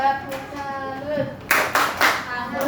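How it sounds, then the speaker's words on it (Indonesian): Elementary classroom of fifth-graders clapping in unison for a salute clap, with a few sharp group bursts after a teacher's voice; loud and close. "Kita kasih tepuk salut."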